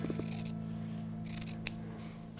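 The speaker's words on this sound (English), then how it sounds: "taking my scissors, I'm going to cut about a seam allowance of 1/4 inch" Scissors cutting fabric for a patch throw, leaving a quarter-inch seam allowance, with several close, quiet snips and rustling swishes of blades through cloth.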